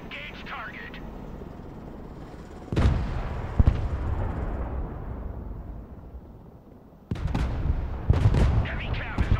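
A tank gunner fires at targets in the Broken Arrow game: heavy booming cannon shots with sharp onsets and long decaying rumbles, separated by quieter battlefield noise, with a voice heard briefly.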